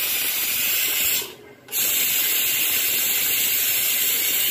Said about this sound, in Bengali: দিয়ে এবার প্রেশারটাকে আমরা রিলিজ করে দিই